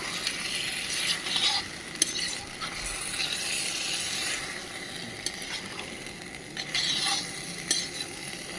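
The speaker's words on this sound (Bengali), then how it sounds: "একটু মশলাটা কষুক" Masala with Kashmiri chili sizzling in a pan while a spoon stirs and scrapes it, steady frying hiss broken by periodic louder bursts of stirring and clinks of metal, close up with no one speaking.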